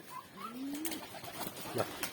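Pigeons coo softly while being fed, a couple of low gliding calls and faint scattered bird sounds in a quiet, distant-sounding setting.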